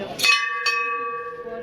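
A temple bell struck twice by hand at a Hindu temple in Shimla, each ring bright and metallic with a long, steady humming decay, heard up close.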